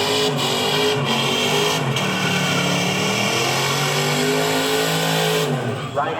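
A 6.2-litre drag racing car engine roars loud and sustained at a drag strip, with pitch sweeping up and down as it revs, while a commentator talks over it throughout.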